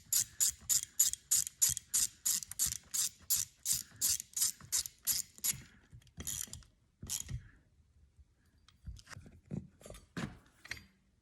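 A ratchet tightens small bolts on the primary clutch of a 2021 Ski-doo 850 Turbo E8 snowmobile, giving a quick, close series of sharp clicking bursts before a few slower clicks and handling noises follow.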